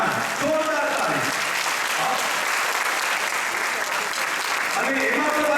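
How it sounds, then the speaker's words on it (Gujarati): Audience applause at a Paryushan religious gathering in New Jersey: dense, sustained clapping from a crowd throughout, with a voice faintly audible beneath it. "યુવાન જોરદાર તાળી."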